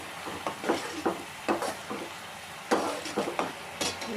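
Garlic sizzles in hot ghee while being stirred, with soft crackling and scraping strokes of a spoon at a steady, uneven rhythm, close and quiet with no talk.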